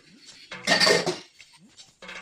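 Dishes and utensils being washed in a kitchen sink, with brief clattering and clinking of pots and cutlery that swells in the middle, then trails off into quieter handling.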